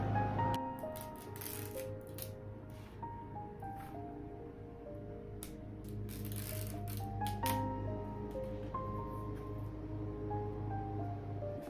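Pieces on a thrifted item being peeled off by hand, heard as soft close crinkling, tearing and rustling in irregular bursts over a faint background tone, with no talk.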